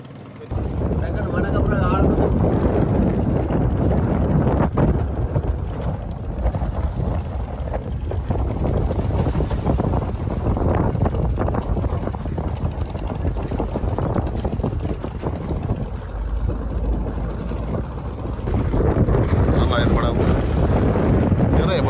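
A fishing boat heads back to shore at night off Mathagal, Jaffna, Sri Lanka, its steady engine and water rush blending with strong wind buffeting the microphone throughout, with voices talking over it.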